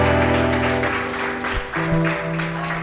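A church congregation claps in steady rhythm through a worship service, the dense patter of many hands layered over sustained music throughout.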